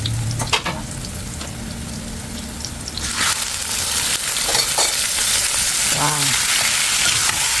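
Squid adobo is stirred in a frying pan, giving a continuous sizzle with scraping and stirring sounds. A voice makes a short exclamation.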